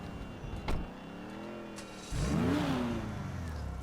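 A new DLC car in GTA 5 Online starts up: a brief crank around the two-second mark, then the engine catches with a rising rev and settles into a steady idle, close and loud with no talking.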